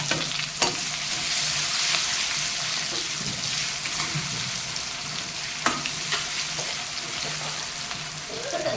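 Dried red chillies and cumin seeds temper in hot oil before onions and garlic go in, producing a dense, steady sizzle with occasional sharp clicks and stirring scrapes, close and continuous without speech.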